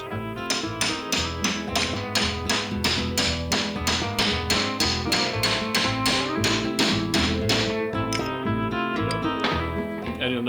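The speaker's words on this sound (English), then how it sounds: "you'll notice he's using a brass hammer." A brass hammer strikes metal on a Quattro transmission differential in a steady, rapid series of ringing blows, roughly two per second, close and clear with no voices.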